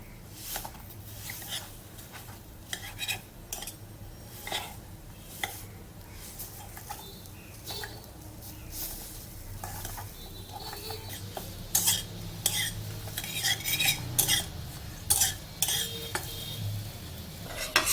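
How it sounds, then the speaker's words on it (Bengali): A metal spatula knocks and scrapes against a pan, breaking up fried red-amaranth leaf patties in a little oil; irregular clinks and taps over a soft sizzle, growing busier and louder toward the end. "চাপড়গুলোকে এরকম খুন্তি দিয়ে ভেঙে ভেঙে নেব যেমন ইচ্ছে ভেঙে নিলেই হবে"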